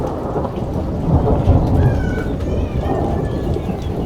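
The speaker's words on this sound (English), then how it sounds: "Thunder in the mountains, lightning." Heavy thunder rumbling through a hailstorm in the mountains of Italy, with steady rain or hail hissing on surfaces throughout and a faint higher whine above.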